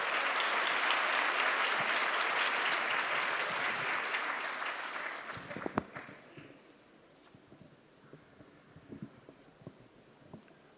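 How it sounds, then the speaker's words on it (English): A live audience claps loudly in a sustained wave of applause at a concert event, which fades over several seconds into scattered faint claps and movement. "Big round of applause."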